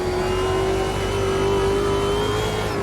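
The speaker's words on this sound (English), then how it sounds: "Just love the noises when you hit on the brakes. You can hear the overrun." Race car engine in the Automobilista 2 racing game, a loud steady high-pitched drone holding a near-constant note for a few seconds with no speech over it.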